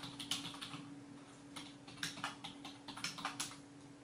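A login being typed quickly on a computer keyboard, with a run of light, crisp key clicks in uneven bursts over a faint steady hum. The sound is quiet and close, with no talking.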